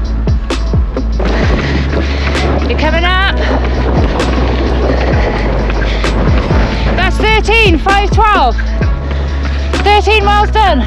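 Strong wind buffets the microphone throughout an outdoor half marathon run, a continuous loud rumble with occasional thumps and gusts, while a person speaks over it.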